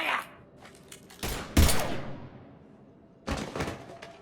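Gunfire in Mass Effect 3, a few sharp bursts of shots with a loud heavy blast and decaying echo, then another burst after a short quiet gap.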